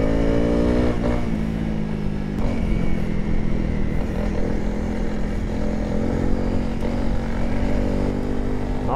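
Dual-sport motorcycle, a Honda CRF300L or KTM Duke 200, riding fast on a Greek trail, with a loud continuous engine drone that shifts pitch while the throttle changes and wind rushes past.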